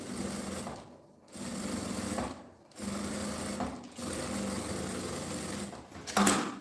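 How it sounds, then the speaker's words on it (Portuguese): A sewing machine runs in steady bursts as it stitches a seam on fabric for a messenger bag, its whirring motor pausing briefly between runs, close and alone with no talk. "aqui, ó, eu passo uma costura com o pé de máquina"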